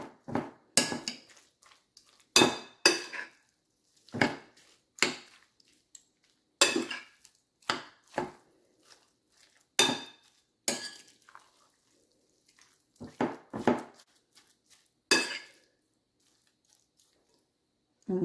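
A meatball mixture with egg and Worcestershire sauce is stirred in a bowl, producing repeated clattering scrapes and taps of a utensil against the bowl in irregular bursts separated by short silences.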